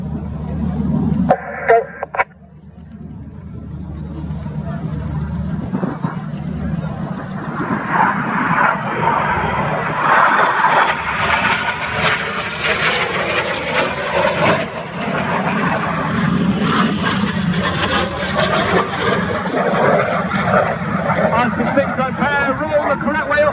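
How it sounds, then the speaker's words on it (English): Military jets at an RAF Cosford airshow roar past continuously as a broad, building engine rush through a barrel roll and inverted flight, with a public-address commentator talking over the noise. "Each aircraft will perform a barrel roll, followed by inverted flight in a manoeuvre called the crossbow."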